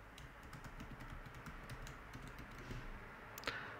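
An email address being typed on a computer keyboard, a steady run of quiet, close key clicks with no voices.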